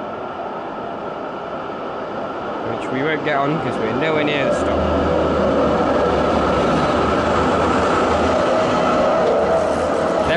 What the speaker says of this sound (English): here is a tram